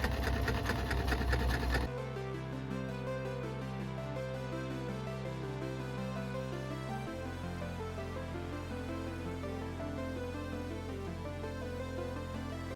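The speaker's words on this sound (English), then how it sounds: "I'm going to take it to the sewing machine and then sew it up." A sewing machine stitches a white stripe onto thrifted clothing, giving a steady, continuous mechanical whir that changes pitch partway through and runs alone for over ten seconds.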